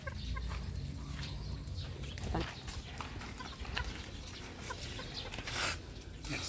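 A Bulik gamefowl chicken clucks softly on a farm, with scattered quiet clucks and pecking against a busy outdoor background.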